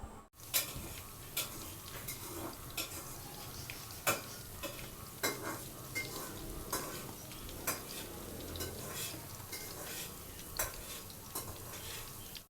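Frying in hot oil for chicken chilli in a home kitchen, a continuous sizzle with frequent clinks and scrapes of a utensil against the pan, steady and close, with no talking.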